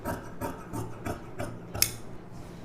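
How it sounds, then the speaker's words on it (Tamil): Scissors cut through blouse fabric along a chalk mark in about six rhythmic, close snips, with a sharper metallic click near the end and no talk. "அப்படியே அந்த டிஸ் மார்க்லேயே கட் பண்ணிக்கலாம்."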